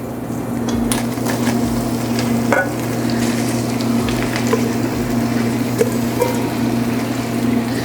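Sliced zucchini hits a hot pan where onions have been cooking until translucent, a steady close sizzle and frying hiss with occasional stirring knocks and scrapes, no talking.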